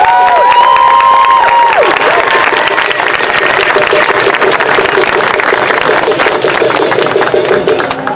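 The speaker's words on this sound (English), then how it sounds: "if we could give a big round of applause for him" A crowd at an outdoor rally against ICE in Morgan Hill, California, cheering and clapping loudly and continuously, with whistles and shouts piercing through a dense wash of applause.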